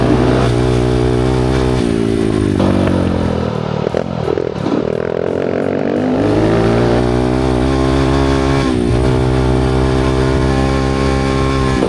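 A Kawasaki motorcycle accelerates hard, its loud engine note climbing steadily through the gears with a brief dip before revving up again, close and continuous.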